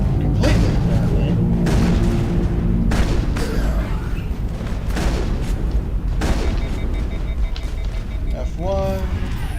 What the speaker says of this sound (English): Let's throw a grenade.